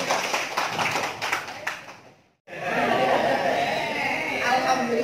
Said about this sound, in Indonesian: tepuk tangan buat Bapak Ibu semuanya